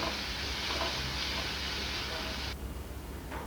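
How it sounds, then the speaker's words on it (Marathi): Finely chopped tomato frying in a pan of masala paste, a steady close broadband sizzle that holds evenly for most of the moment, then drops slightly quieter near the end. "आता हा टमॅटोही आपल्याला मऊ होईपर्यंत छान असा शिजू द्यायचा आहे"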